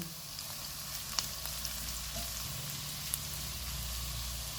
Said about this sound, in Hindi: इसमें एक टेबलस्पून चॉप किया हुआ लहसुन डालेंगे। इसको 1 से 2 मिनट तक फ्राई करेंगे।